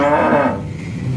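A toy cow figure lets out a single short, loud recorded moo close by, fading quickly after the opening swell.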